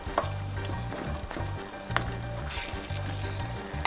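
Ground beef frying in oil for empanada filling, a steady continuous sizzle with crackles and pops, close up, while a low rhythmic hum runs underneath.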